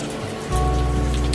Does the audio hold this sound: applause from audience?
no